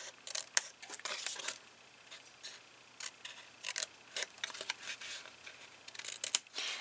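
Scissors snip small notches into the tabs of a folded paper gift box, a quick series of close, crisp cuts with light paper rustling between them.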